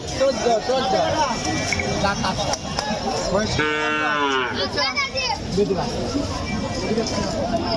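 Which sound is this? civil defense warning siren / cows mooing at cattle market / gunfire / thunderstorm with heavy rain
cows mooing at cattle market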